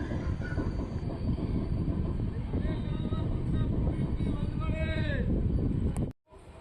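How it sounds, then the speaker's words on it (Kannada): A passenger train pulls out of Tumkur station after a short halt. A steady rolling rumble and clatter runs throughout, with squealing wheel tones rising near the end before an abrupt cut. "ಸುಮಾರು 3 ನಿಮಿಷ ಹಾಲ್ಟ್ ನಂತರ ನಮ್ಮ ಟ್ರೈನ್ ತುಮಕೂರಿಂದ ಹೊರಟಿದೆ"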